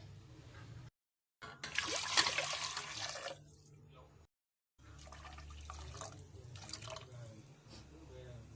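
Water pours and splashes into a pot of basmati rice in a couple of bursts, close and fairly loud, with short silent gaps between pours.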